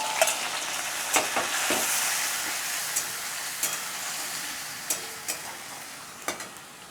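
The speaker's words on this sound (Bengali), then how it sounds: "এবার মশলাটা দিয়ে ভালো করে কষাবো।" Fried potatoes and spices stirred in a hot pan, a continuous sizzle punctuated by repeated sharp spatula scrapes and taps at irregular intervals, close and clear with no talking.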